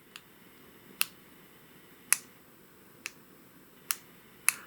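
Sharp, crisp clicks from the tactile tail button of a Wurkkos TD11 tactical flashlight, five distinct presses spaced about a second apart, close and fairly quiet against a faint background hiss.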